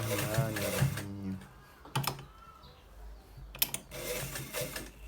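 A sewing machine stitches a back pocket onto trousers in short, close mechanical bursts separated by pauses, with a voice talking at the start.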